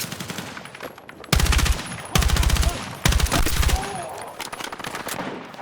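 Gunfire in the video game Battlefield 6, three loud bursts of rapid automatic fire in close succession, with softer battle noise between them.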